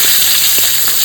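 Pointed gourd pieces fry in hot oil until golden brown, a loud, dense, continuous sizzle with small crackling pops close by.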